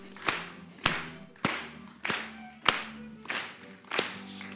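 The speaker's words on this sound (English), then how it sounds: "I have to say, I like that sort of token clapping." Audience clapping in unison along with a song at a live comedy-science show, eight sharp claps in a steady, even beat over a faint musical backing, with no talking.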